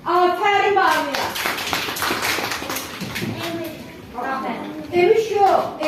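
Hand claps from a young child come in short close bunches under an adult's cheerful talking and a voice.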